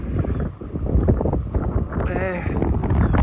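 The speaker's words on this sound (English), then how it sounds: "It's just too windy" Strong outdoor wind buffets the microphone in Leith, Edinburgh, a steady broadband rumble that rises and falls throughout while people talk over it.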